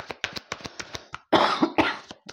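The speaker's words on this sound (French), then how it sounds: "excusez-moi, je tousse ce matin" A person coughs repeatedly in short sharp bursts, several quick close coughs followed by a heavier, louder fit of coughing near the end.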